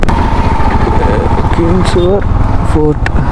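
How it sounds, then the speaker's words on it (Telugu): A motorcycle engine drones steadily while the bike is ridden along a desert road near Jaisalmer, a loud continuous rumble with brief higher tonal sounds over it near the end. "బైక్ మీద ట్రావెల్ చేసేటప్పుడు"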